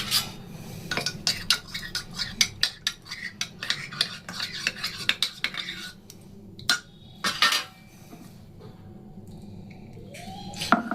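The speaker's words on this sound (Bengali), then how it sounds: "গুড় গলিয়ে রেখেছি এটাকে একটু একটু করে দিয়ে মেখে নেব একটু বসে গেছে আমি চামচ দিয়ে" A spoon scrapes and stirs through stiff thekua dough as melted jaggery is worked in, giving irregular clinks and rubbing scrapes against the bowl, close and fairly crisp, with short pauses between strokes.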